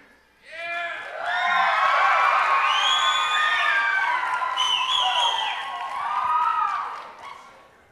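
An audience at a local dance competition cheers, whoops and whistles for a couple of dancers, a loud swelling roar of shouts and high whistles lasting several seconds before fading.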